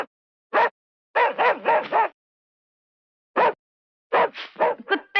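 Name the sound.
dogs barking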